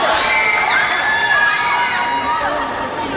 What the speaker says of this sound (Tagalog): Lakas sumigaw ng grupo na yun